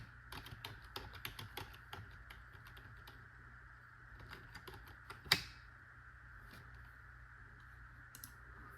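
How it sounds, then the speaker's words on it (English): Computer keyboard typing an IP address into a browser, quick irregular key clicks in short bursts, faint and close, with one sharper louder key strike midway and sparse taps after. "we type the IP address that we had on it"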